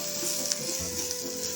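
Cumin seeds hit hot oil in a frying pan alongside browning onions, giving a steady, close, continuous sizzle and crackle.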